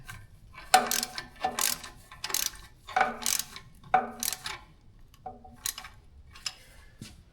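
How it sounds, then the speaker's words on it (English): A ratchet tightens down bolts on a radiator with about six quick bursts of sharp metallic clicking, close and distinct, separated by short quiet gaps. "tighten down the 2 bolts in here"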